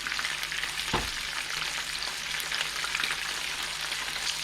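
Garlic shrimp frying in a pan, a steady, even sizzle filling the whole stretch at moderate level, with one brief knock or clatter near the start and no voices.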